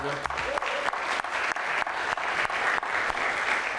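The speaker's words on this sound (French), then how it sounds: "Moins d'applaudissements" Conference audience at an entrepreneurship business-English event applauding, a continuous even clapping from a sizeable crowd with a few sharper individual claps standing out.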